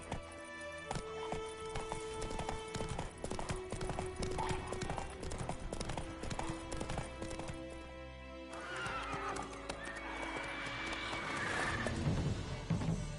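Roach, Geralt's horse in The Witcher 3, gallops with continuous rapid hoofbeats, then lets out a loud neigh near the end, all beneath layered game music and background sound.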